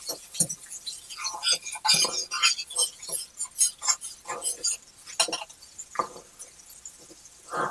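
A small metal whisk clinks sharply and repeatedly against a pot or bowl while homemade gravy is started, its bright irregular taps coming close and fairly loud with no talking.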